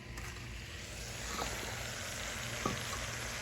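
Crispy fried chicken chunks go into a hot pan of mixed vegetables, raising a steady, quiet sizzle with a few faint clinks, heard close without talk.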